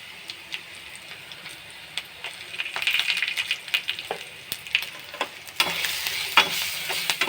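Curry leaves, salt and turmeric fry in a pan for a Telugu moong dal and coconut curry, giving a soft, steady sizzle with scattered spatula clicks and stirring scrapes that grow louder and busier toward the end.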